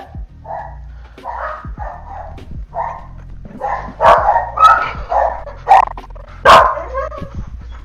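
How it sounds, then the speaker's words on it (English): Several dogs bark repeatedly, loud and close, in irregular bursts that grow more intense toward the end. "That's why they started barking."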